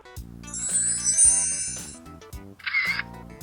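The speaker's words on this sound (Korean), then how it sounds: "전원을 켜는 소리, 카메라 셔터음이 조잡해 보이는데 심지어 끌 수도 없더라고요." Cheap Kodak-style retro camera bought on AliExpress gives a tinny electronic power-on jingle, followed after a short pause by a brief synthetic shutter chirp, over low mechanical clicks; close and fairly loud.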